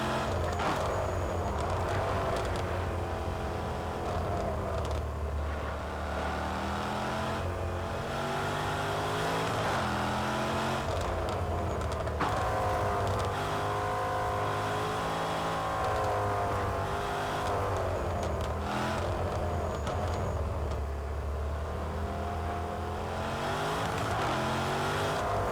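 A race car lapping Cadwell Park in Project Cars 2, played on a Thrustmaster wheel: a loud continuous engine drone that rises and falls through repeated revs and gear changes for the whole stretch, with no pauses.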